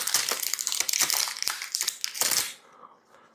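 Protective plastic film being peeled and crinkled off the face of a Black Shark BS-SP1 RGB gaming speaker, a dense close crackling rustle for about two and a half seconds that then stops abruptly.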